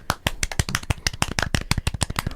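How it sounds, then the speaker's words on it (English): A small group of people clapping hands together, a quick irregular burst of sharp claps lasting a couple of seconds, close and fairly loud with no talking. "let's clap"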